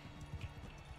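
Horse hooves clopping in a medieval video game battle, a few low thuds under a busy, steady game soundscape.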